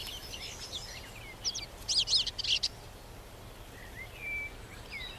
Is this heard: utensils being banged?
no